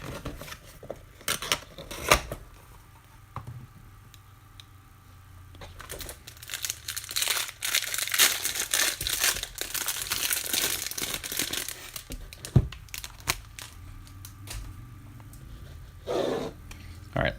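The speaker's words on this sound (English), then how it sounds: "now these packs open pretty easily" Trading card pack wrappers get opened with bursts of crinkling and tearing plastic foil, close and intermittent, separated by quieter handling and shuffling pauses.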